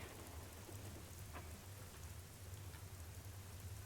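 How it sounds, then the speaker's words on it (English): Steady rain in the video game Generation Zero, a dense even hiss that fills the whole stretch at low level with a faint low rumble beneath, no voices. "And it's raining."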